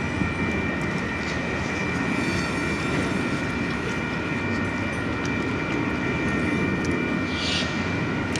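A Union Pacific manifest freight train rolls into a rail yard, a loud, continuous rumble and rattle of cars with steady grinding tones and faint high squeals throughout.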